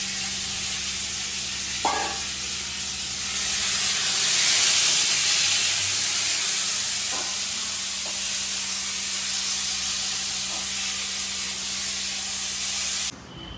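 Potatoes fry in a pan with a broad, steady hiss and sizzle close by, swelling slightly midway, with a few faint knocks of utensils and no talking.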